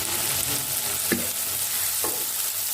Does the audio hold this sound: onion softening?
yes